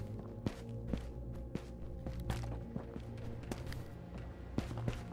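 Footsteps in the video game Ghosts of Tabor, a run of soft, quiet steps spread over a steady low ambient hum, with a few sharper thuds standing out.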